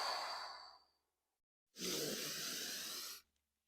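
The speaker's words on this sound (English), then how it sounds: "Breathe in super deep." A deep breath during a back rehab workout: a soft exhale trails off at first, then after a short silence comes a loud, close, rushing inhale lasting about a second and a half.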